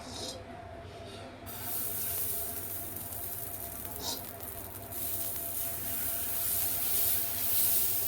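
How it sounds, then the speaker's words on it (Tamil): Moong dal dosa batter hisses and sizzles on a hot tawa, a steady broadband crackle that grows slightly louder as it spreads over the pan, close and with no talking. "தவா சூடாகிடுச்சு வந்து நம்ம தோசை ஊற்றிக்கலாம்"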